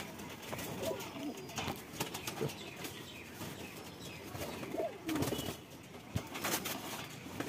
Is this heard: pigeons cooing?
yes